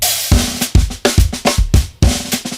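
A full acoustic drum kit plays a punchy groove, with kick, snare and cymbal hits in a steady, tight rhythm, loud and close.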